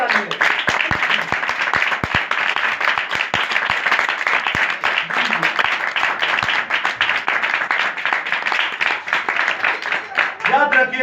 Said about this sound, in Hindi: बहुत जोरदार तालियां।